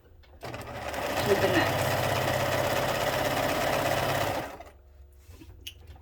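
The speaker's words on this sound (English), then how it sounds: "I just sew from one corner" A sewing machine stitches quilt binding strips with a fast, steady mechanical whir and a fine rhythmic needle patter for about four seconds, close and loud, then stops, and a few words are spoken.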